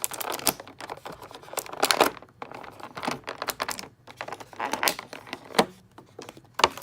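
Rapid clicking of small plastic joints on a Marvel Legends Iron Spider action figure, irregular bursts of sharp ticks heard up close, with short pauses between runs of clicks.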